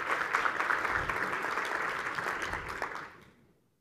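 A conference audience applauds in welcome for Dr. Summerfelt, steady clapping from many hands that fades out at the end.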